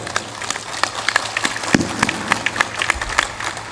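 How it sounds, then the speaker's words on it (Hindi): Loud applause from a devotional discourse audience, dense irregular hand claps filling the whole stretch with sharp peaks, no talk over it. "जोरदार ताली बजाया करो"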